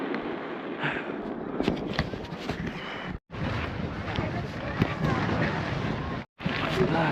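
Dense, continuous crackling and booming bursts with crowd noise and wind, broken by two brief silent gaps; a sustained barrage of fireworks exploding outdoors.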